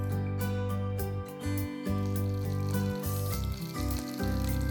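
Mustard seeds and curry leaves sizzling in a little oil in an Indian kitchen, a continuous bright frying hiss with faint crackles and occasional stirring knocks, close and moderately quiet.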